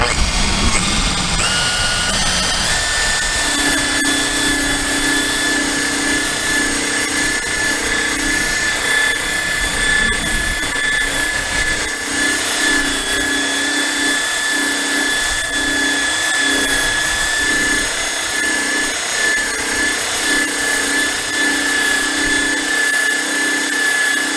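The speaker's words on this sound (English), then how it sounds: "So I'll bring the speed up on the buffer and we'll keep buffing." Power buffer polishing the plastic gas tank of a 1985 Honda ATC250R, a loud continuous high-speed whine with steady tonal hum and rubbing friction throughout, running without pause.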